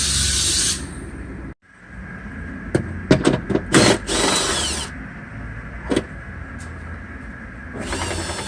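A power tool loosens 10mm bolts from the center brake light on a Jeep Compass in short buzzing bursts and clicks, close by, with hiss at the start and end and quieter gaps in between.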